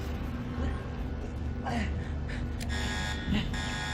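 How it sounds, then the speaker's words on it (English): An alarm buzzes intermittently on a spaceship in a sci-fi action film, with repeated electronic bursts under tense dialogue and gasps. "Rupert has activated the ship alarm from the core room."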